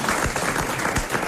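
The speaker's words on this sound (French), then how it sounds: "alors applaudissements pour Madame Tolson et mandat." A burst of studio audience applause, steady clapping from a crowd filling the whole moment, fairly loud and without speech over it, on a French television show.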